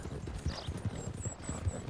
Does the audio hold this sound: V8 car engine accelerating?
no